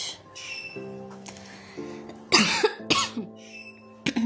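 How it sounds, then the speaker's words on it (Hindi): A few sharp coughs, close and loud, after a quieter stretch with a faint steady hum in the background. "आज मेरे को खांसी हो रहा है।"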